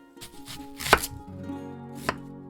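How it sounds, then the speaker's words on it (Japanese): A kitchen knife chops onion for keema curry on a board: a few soft cuts, then one sharp close chop, then another single chop a second later, with quiet background in between. "早速もう何か刻んでますが、玉ねぎです。"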